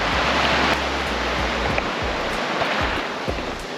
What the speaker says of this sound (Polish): Delikatnie sobie te fale się rozbijają na brzeg.